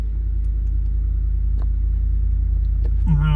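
A new truck's engine idles as a steady low rumble close by, with a brief rising whine as it catches at the end.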